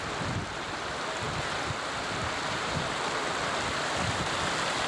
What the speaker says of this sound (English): Here's some water flowing out of the Excelsior Geyser crater.